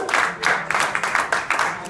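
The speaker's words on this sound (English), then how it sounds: "Can I just get a round of applause for him" A studio audience claps for a debater at a mobile debate show, a steady, close round of applause with rhythmic bursts throughout and no talk over it.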